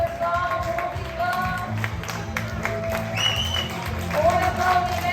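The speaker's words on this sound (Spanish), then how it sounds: "Un aplaudiment. Bravo, l'equip de so." Audience at a first-year school play clapping for the sound team, scattered applause and cheering mixed with music tones and nearby voices.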